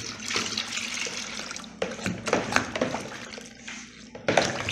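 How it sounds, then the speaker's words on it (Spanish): Water is poured into a strained carrot and melon drink, giving an irregular splashing and trickling with several louder gushes, close and moderately loud. "Ahora vamos a agregarle un poquito más de agüita."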